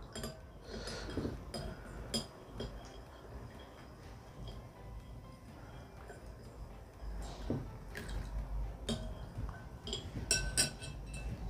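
A spoon stirs a single drop of Atomy dish detergent into water in a bowl, making faint, irregular clinks and taps against the bowl in a quiet room.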